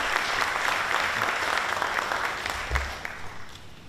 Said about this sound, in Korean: 따뜻한 박수로 정해주시면 감사하겠습니다